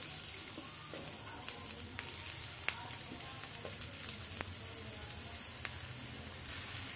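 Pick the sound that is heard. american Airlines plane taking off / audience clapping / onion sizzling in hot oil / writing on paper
onion sizzling in hot oil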